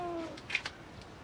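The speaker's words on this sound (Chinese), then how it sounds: "是我们楼下的流浪猫叫了快一天了" A pregnant stray cat gives a couple of short, faint meows against quiet background noise, with a brief tonal sound just before.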